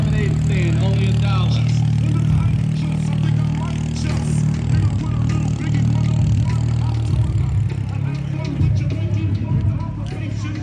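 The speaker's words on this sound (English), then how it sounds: "A lot of turbo Hondas." Turbocharged Honda cars with B-series engines run and rev at an outdoor car meet with barbecue vendors, a steady loud engine drone with occasional revving under a constant crowd babble and nearby talk.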